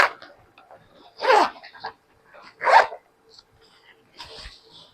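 Zipper on a summer sling bag being pulled open, a few short raspy zip strokes spaced apart with quiet pauses, close by, with a voice faintly in the background.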